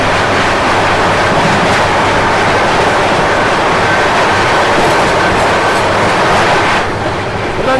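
Ranthambore Express train passing at a railway crossing: a loud, continuous roar and rattle of wheels and carriages right up close, easing slightly at the end, with no speech.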